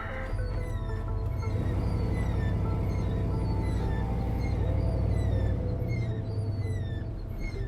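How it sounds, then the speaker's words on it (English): An old green truck used for firewood delivery runs loudly nearby, a steady low engine rumble with rattling and squeaks layered over it, continuous throughout. "This truck's awfully loud."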